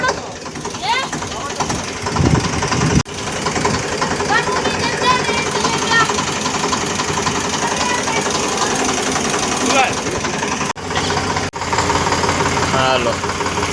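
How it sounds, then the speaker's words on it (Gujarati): A tractor engine runs steadily on a farm after rain, a continuous rough mechanical drone with knocking under it, while people talk over it throughout. "ટ્રેક્ટર હાક્યા છે"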